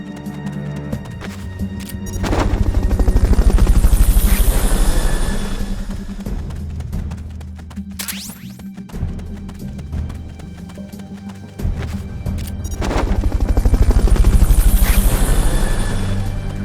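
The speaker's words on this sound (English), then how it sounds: "Fulton recovery subject confirmed onboard helicopter." Fulton recovery helicopter in the Metal Gear Peace Walker game, a throbbing rotor drone that swells loud twice and eases back between the peaks, with no talking over it.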